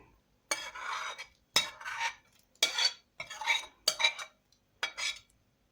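Carrot blended with orange juice being mixed into banana cake batter in a bowl, heard as six distinct bursts of scraping and clinking utensil strokes against the bowl, close and fairly loud, separated by short pauses.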